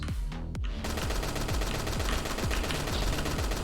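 Rapid turret fire in a video game, a steady stream of punchy repeated shots with regular low thumps, loud and continuous with no talking.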